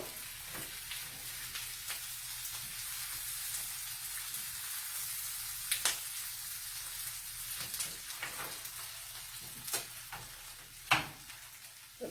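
Liver frying in a pan gives a steady, fairly quiet sizzle, broken by a few sharp pops and the clack of a utensil against the pan.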